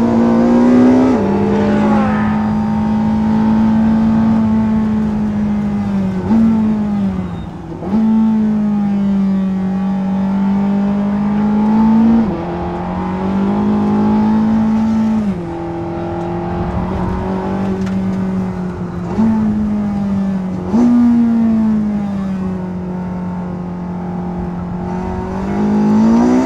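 Engine of a Porsche 918 Spyder hypercar accelerating hard in sport mode, heard from inside the car as a loud sustained roar that climbs through the gears with several brief dips at each shift.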